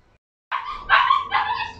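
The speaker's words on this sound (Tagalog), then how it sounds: "never mind the dog, yung barking ng dog" A dog barks loudly and close by indoors, a burst of three or four yapping barks after a brief silence.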